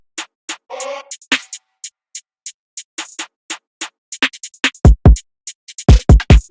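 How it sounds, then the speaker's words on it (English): Simple, bouncy kick drum pattern in a drill beat, with low kick thumps entering partway through beneath a steady run of crisp hi-hat ticks and percussion hits, loud and clean without voices. "Now with the kick, I just kept it simple, kept the bounce simple. It sounds like this."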